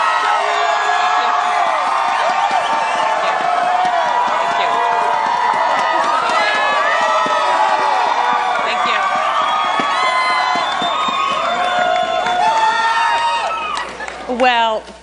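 Loud crowd cheering, whooping and clapping at Meg Whitman's 2010 California election night rally, a dense sustained roar that runs the whole time and eases off at the very end.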